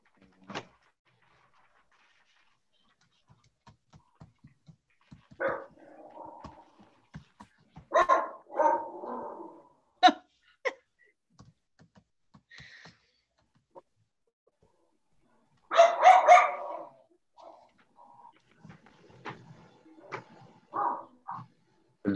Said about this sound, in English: Dog is chasing your cat, Lisa.